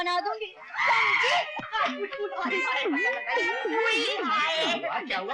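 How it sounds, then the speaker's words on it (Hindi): A woman screams and wails loudly during a heated household quarrel, her strained voice rising and falling in long, wavering cries with short breaks between. "क्या चिल्ला रही हो?"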